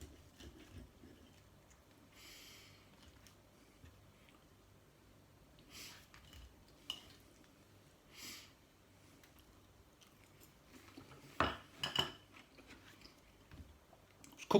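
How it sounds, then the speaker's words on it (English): Someone chews air-fried fish with a crispy coating, soft close-up bites and crunches spread across a quiet room, with occasional sniffs and a couple of louder crunches near the end, no talking. "Let's try a bit of this fish."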